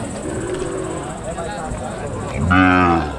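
A cow lowing at a rural stockyard with a carabao nearby, one loud drawn-out moo rising near the end over outdoor background murmur and faint talk.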